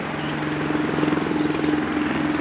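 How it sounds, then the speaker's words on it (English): A helicopter near a bike race, a steady rhythmic rotor thump with a low engine drone, moderately loud and sustained over a short stretch, with no talking. "I hear a helicopter there."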